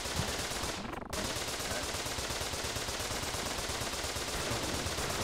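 A walrus minigun fires in Duck Game as a dense, continuous stream of rapid gunfire, broken only by a momentary gap near the start.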